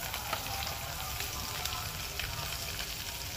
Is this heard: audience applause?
no